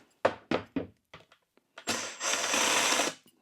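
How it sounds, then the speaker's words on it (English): A jigsaw cutting a hole in a tongue-and-groove pine ceiling board: a few short trigger bursts and knocks first, then a loud, close, sustained buzzing cut lasting over a second before it stops. "cut it out with the jigsaw"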